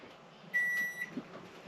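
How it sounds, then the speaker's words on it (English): A microwave oven in a 2021 JB Caravans Gator-X van switching on with a single short electronic beep, followed by a faint low hum. "You hear the microwave turn on"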